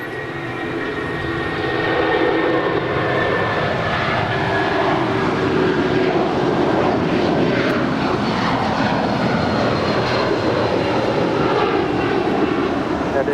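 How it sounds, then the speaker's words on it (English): A 22-year-old United Airlines Boeing 757-200 departs Los Angeles International, its jet engines roaring as a steady broadband rumble that swells after the first two seconds and holds loud and continuous; faint voices are audible beneath it. "Here we have a 22-year-old Boeing 757-200 departing to Newark Liberty"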